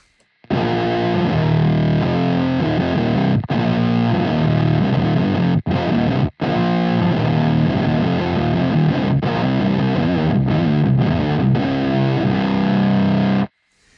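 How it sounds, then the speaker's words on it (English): An electric guitar plays through an AIB Custom FX Hexed Fuzz Distortion pedal, thick and buzzy, in loud chords and riffs with a few brief breaks. "If I back the fuzz right off, it's where you get more of the sort of thicker distortion sounds"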